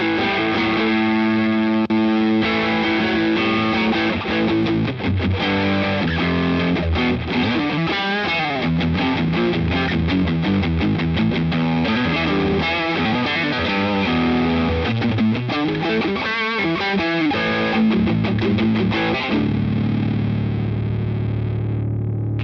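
An electric guitar plays through stacked NUX Ace of Tone overdrive pedals in Tubescreamer and Blues Breaker style, giving a continuous, loud, distorted tone with sustained chords and busier riffing, alone without talk.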